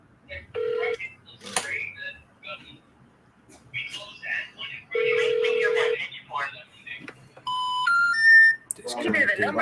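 A telephone dials a number during a real estate cold call, with steady tone bursts, a series of quick touch-tone beeps and clicks, and voices talking in between.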